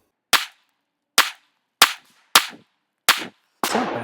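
Five sharp pistol shots from an S&W Bodyguard 2.0 .380 firing 90 gr XTP rounds crack out at uneven intervals, loud and close, followed by a brief rustling clatter at the end.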